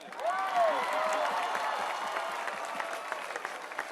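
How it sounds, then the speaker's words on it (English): Crowd applause and cheering at the Baylor men's basketball national championship parade, a broad outdoor swell with a rising whoop or whistle at the start, then steady clapping carrying on. "He needs a round of applause."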